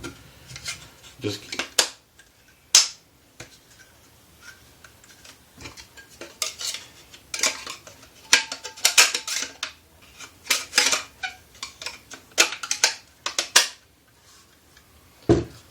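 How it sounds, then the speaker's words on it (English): Metal parts clink, scrape and rattle up close as a handguard is fitted onto a brand-new Sig Sauer M400 rifle, irregular knocks and rubbing in scattered bursts. "Y'all know how to put these handguards on."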